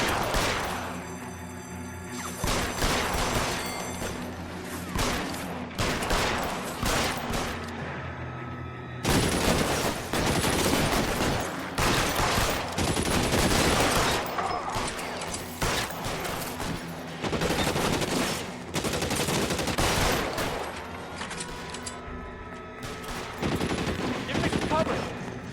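A gunfight in L.A. Noire with a cop partner against about thirty gunmen: dense bursts of rapid gunfire and single shots crackle loudly and continuously, with brief lulls between volleys.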